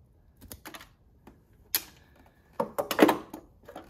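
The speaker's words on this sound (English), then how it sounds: "I'm gonna cut all of these to length" Wire cutters snipping lengths of automotive electrical wire during wiring repairs on a 1983 Porsche 944, giving a few sharp close clicks and crunches in an otherwise quiet space.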